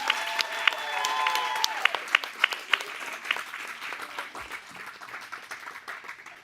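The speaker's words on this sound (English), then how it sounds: "let's give a round of applause" An audience at a live elite stage event breaks into applause, a dense burst of hand claps that starts strong with some brief tones early on, then thins into scattered, fading claps.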